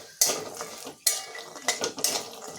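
Walnuts dry-roasted in a pan over a medium flame and stirred, four sharp rattling scrapes of nuts and spatula against metal, close and loud with quieter shuffling between.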